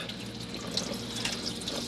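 Steady hiss of water running from a tap into a sink inside a Malibu 540 camper van, a continuous even rush with faint splashy highs, fairly close.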